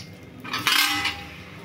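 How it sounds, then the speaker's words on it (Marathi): Crushed chikki jaggery tips into hot ghee in a pan, a single clattering scrape and clang of metal cookware that rings briefly then fades, close and without talk. "आता आपण ह्या तुपात गूळ टाकणार आहोत."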